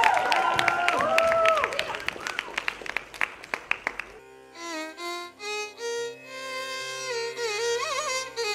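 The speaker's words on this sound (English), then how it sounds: "let's give a round of applause for the Kuchipudi dance" Audience applause at a spring cultural evening before a Kuchipudi dance, a crowd of hands clapping for about four seconds and then giving way to sung music with a tonal vocal line.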